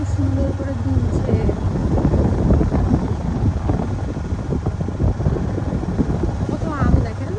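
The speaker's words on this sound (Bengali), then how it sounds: "কি সুন্দর বাতাস, গাছগুলো এত সুন্দর করে দুলছে।" Strong wind gusts through mango and banana trees beside open fields and a pond, a steady rough roar buffeting the microphone throughout while people talk over it.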